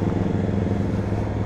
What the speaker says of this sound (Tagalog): meron tayong motor sa kabila.